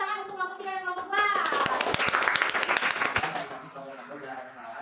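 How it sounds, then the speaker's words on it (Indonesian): Students in a classroom clap for presenting groups, a burst of dense hand claps rising sharply after a voice and then tapering off, with speech over the start and end. "Tepuk tangan untuk kelompok 3 dan kelompok 2."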